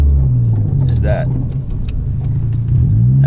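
A modified 2020 10th-generation Honda Civic Si on the road, its steady engine and road drone running continuously close to the microphone, with a person talking over it.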